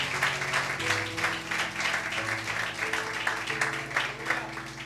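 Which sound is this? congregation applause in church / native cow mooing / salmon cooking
congregation applause in church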